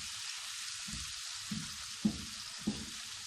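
Garlic eggplant fries in a pan with a continuous bright sizzle, broken by a few soft stirring bumps and scrapes toward the end.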